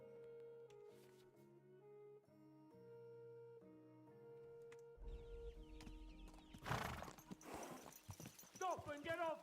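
Rhythmic clip-clop of horse hooves in Kingdom Come: Deliverance II over game music, growing busier and louder midway, with a horse whinny and voices near the end.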